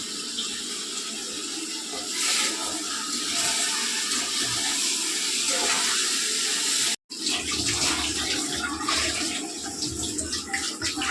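Country chicken being washed under running water for a Sunday ragi sangati and chicken curry meal, a loud continuous splashing gush with a brief cutoff midway before the water resumes.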